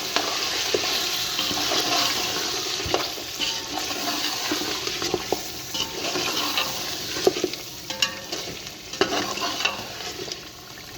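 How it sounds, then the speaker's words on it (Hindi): Nihari masala fries and is stirred in a pot, giving a steady loud sizzle with scraping stirring strokes throughout, no talking. "तकरीबन 1 मिनट हमने मिसालों को भून लिया है।"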